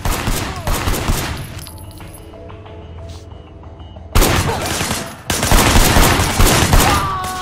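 Bursts of gunfire from a shooter firing out of a car's passenger window in the video game Sleeping Dogs, loud rapid volleys at the start and again in the second half, with a quieter stretch between.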